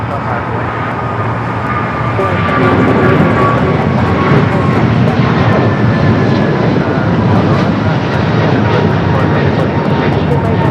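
A jet airliner powers up for takeoff on runway 25 right at LAX, a loud sustained engine roar that swells after a few seconds and holds steady, heard from nearby with faint tonal whine.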